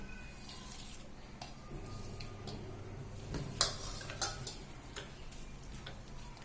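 A spoon clinks and taps against a bowl while panchamrut ingredients, including chironji seeds and chopped makhana, are mixed, making soft irregular ticks with a couple of sharper knocks, quiet and close.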